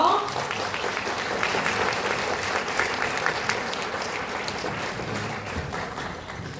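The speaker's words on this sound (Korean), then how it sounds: "큰 박수로 환영해주세요" Warm, sustained audience applause at a Basic Income Party event welcoming three local committee chairs to the stage, dense clapping filling the hall steadily from start to finish.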